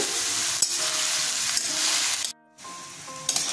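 Onions sizzle steadily as they fry in a pan for a mutton curry, a loud, continuous crackle that cuts out briefly and then resumes, with no talk over it.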